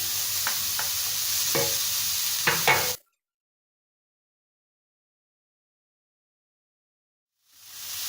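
Ground meat and parsley frying in a pan, close sizzle with a few light stirring ticks for about three seconds, then abrupt silence before the sizzle fades back in near the end.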